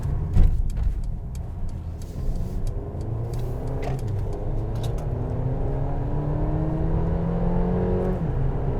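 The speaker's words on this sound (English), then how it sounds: "Acceleration up onto a highway is done with no problem." A 2021 Mercedes-Benz GLB 250 4Matic accelerates up onto a highway, the engine note climbing steadily through gears over road rumble, heard from inside the cabin without speech.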